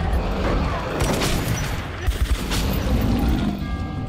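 Gunfire in Metro Redux crackles in rapid bursts over a dense, rumbling in-game background, with several sharp close shots near the middle and no clear speech.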